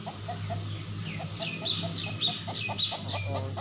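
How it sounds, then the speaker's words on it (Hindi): Aseel chickens, one rooster with several hens, clucking in a village yard. The clucks come in short, repeated near bursts over a steady low background hum. "ये असील मुर्गा, 3 असील मुर्गी हैं और 1 देसी"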